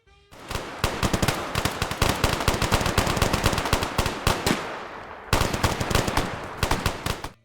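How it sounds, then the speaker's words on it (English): Gunfight between NCR soldiers and traveling merchants in Fallout: New Vegas, rapid dense bursts of automatic and single shots crackling loudly and nearly continuously, with a brief pause before another flurry. "a gunfight broke out between NCR soldiers and some traveling merchants"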